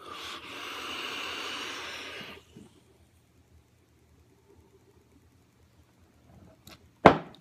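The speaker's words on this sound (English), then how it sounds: "that was just a short little haul and got pretty insane cloud there" A big inhale on a high-airflow e-cigarette, a long breathy hiss close to the mic lasting about two seconds, then near silence and a sharp exhaled puff at the end.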